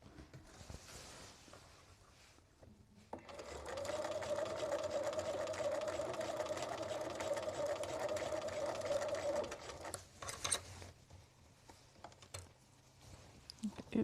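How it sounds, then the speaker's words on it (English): A sewing machine runs in a steady burst while stitching a Victorian skirt, with a continuous mechanical whirring hum that starts abruptly, holds for several seconds, then stops. Quieter handling noises and brief clicks come before and after. "That sounds suspiciously like a bobbin running out"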